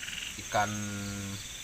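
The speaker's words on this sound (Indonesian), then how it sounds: "Ada suike atau kodok sawah." A rice field frog gives one buzzy, resonant croak that lasts under a second, close and clear against a quiet outdoor background during a solo camping trip hunting eels and frogs.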